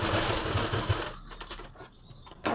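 A sewing machine stitching a pleated suit makes a quick, dense burst of stitching that cuts off, leaving a few light, scattered clicks.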